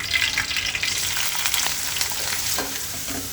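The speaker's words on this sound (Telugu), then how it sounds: "ఇవి ముందు నూనెలో వేయించుకోవాలి" Dried urad dal vadiyalu fry in hot oil with a loud, dense, continuous sizzle and crackle. A few soft stirring scrapes come through over the steady hiss, and no one speaks.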